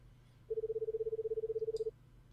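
Telephone dialing tone in The Crooked Man video game: a single steady pulsing beep held for about one and a half seconds, clear and alone over a quiet background hum.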